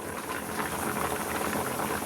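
Papaya, pumpkin, carrot and potato cooking as an offering in a pot of boiling water, with a steady close bubbling and simmering hiss that runs unbroken the whole time.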